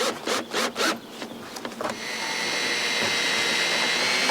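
Screws being driven into wooden roof beams during a roof repair: a few short rubbing, grinding bursts come first, then a steady, close whirring drone continues to the end.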